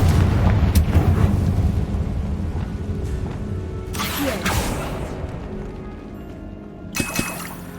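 A Bombarda explosion spell in the Hogwarts Legacy video game, a heavy booming blast that rumbles on and decays, with further sharp bursts after it and a final crack near the end.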